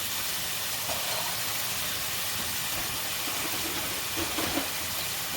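About five fish pieces for tacos searing in a modest skillet, a loud steady hiss of hot oil close by with faint bubbling and crackle, no talking.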